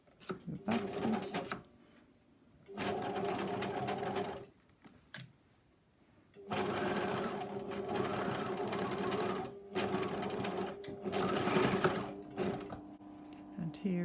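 A sewing machine stitches along the edge of a fabric face mask with an elastic casing, running in several loud, sustained bursts separated by short pauses, close up and with no one talking.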